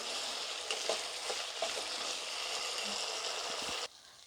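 Spices and ginger fry in hot oil in a pan for an Assamese tel koi fish curry, a steady close sizzle with a few soft stirring scrapes, stopping abruptly near the end.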